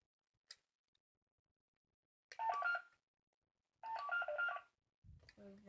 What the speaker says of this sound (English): So that's the sound of the scanner.